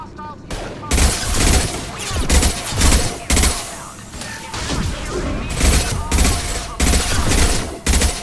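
Repeated gunfire bursts from Krogan enemies in the video game Mass Effect 2, loud overlapping volleys and impacts firing in uneven clusters throughout, with dense battle noise between shots.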